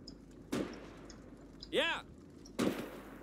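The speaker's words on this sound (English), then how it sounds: "someone's taking pot shots" Gunfire from potshots in the WWII strategy game Call to Arms: Gates of Hell: three sharp shots spaced about a second apart, the middle one with a ringing, whistling tail, heard alone over faint background.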